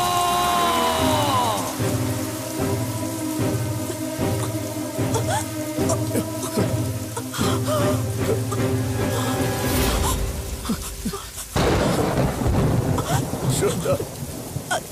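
Heavy rain with rolling thunder in a Hindi-dubbed South Indian action film scene, a dense steady downpour filling the background while music-like tones and a voice sound over it, with a sharp loud burst near the end.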